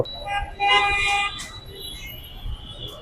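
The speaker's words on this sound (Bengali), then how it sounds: "গাড়িগুলো সিগন্যালে থাকার পরেও মানে সমানে হর্ন বাজাচ্ছে তারা" Car horns honk in a traffic jam at a signal in the Science Lab area of the city, with one long, loud, close toot followed by a fainter second beep over the street rumble.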